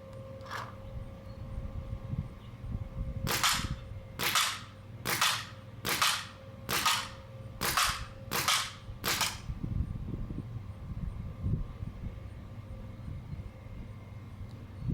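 An Etek 3 paintball marker with its stock barrel fires about nine sharp, evenly spaced shots in a quick series at a fence, close and loud, then stops, leaving low background rumble.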